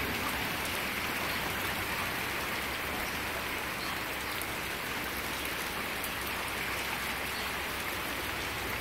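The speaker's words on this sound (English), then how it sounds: "it's not really downpours now. Just rain. Light rain." Light rain falls steadily during a thunderstorm, an even, unbroken hiss of drops on surfaces, close and alone with no voices.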